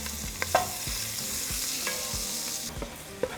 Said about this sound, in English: we're going to melt 3 tablespoons of butter. So scrape the bottom of your pot